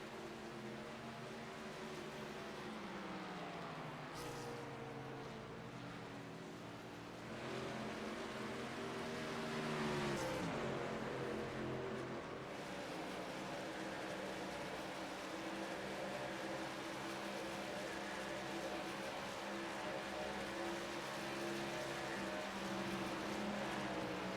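Racing trucks run laps at Pocono Raceway, a faint, continuous engine drone with a rising and falling pass-by whine near the middle, heard from a distance without talk.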